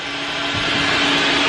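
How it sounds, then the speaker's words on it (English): A vacuum cleaner runs steadily and loudly nearby while a car interior is cleaned, its whining motor drone constant and alone without any talk, though its suction is weak. "And this vacuum isn't sucking up very good."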